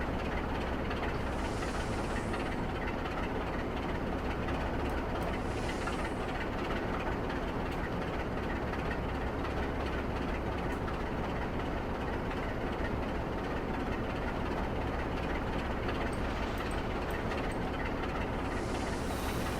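A steady locomotive drive on the Bodmin & Wenford Railway in Trainz Plus, with a constant rumbling engine and rolling wheel noise under occasional hissing bursts, holding an even level throughout.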